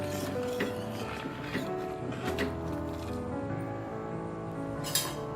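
A spoon stirs squid Thai coconut soup in a pot, giving scattered light clinks and scrapes against the side over a steady low background.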